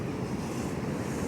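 Pacific Ocean surf surging onto a shrinking beach beside a low rock wall, a steady roaring wash mixed with heavy wind rumble on the microphone.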